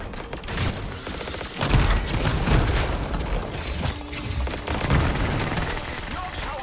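Rapid gunfire in an Anthem firefight, dense bursts of shots rolling continuously at close range with heavy low booms, voices talking over the shooting.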